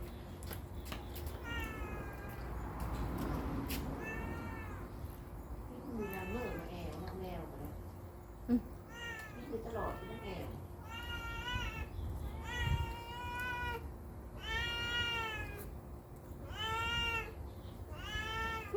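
A cat meows over and over, a run of drawn-out, wavering cries that grows more insistent and frequent, close by, while people talk in the background.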